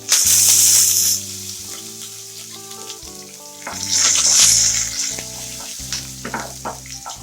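Loud sizzling of asafoetida, green chili and curry leaves dropped into hot oil for a tempering, with bursts of crackling spatter at the start and again midway, fading to a softer fry in between.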